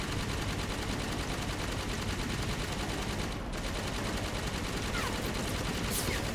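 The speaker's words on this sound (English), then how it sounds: "Can we please stop shooting me?" Rapid automatic gunfire in a Halo 5 Warzone match, a dense, unbroken fusillade of loud shots with a brief dip midway and sharp whizzing accents near the end.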